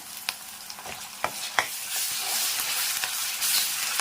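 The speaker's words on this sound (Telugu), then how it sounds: "ఫ్రై అయిపోయింది కదండి ఇప్పుడు అల్లం వెల్లుల్లి పేస్ట్ కూడా వేద్దాం" Ginger garlic paste fries in hot oil in a pan, a continuous hiss of sizzling with a few sharp spoon taps and stirring scrapes, moderately close.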